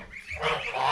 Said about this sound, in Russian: Здесь у нас гуси маленькие.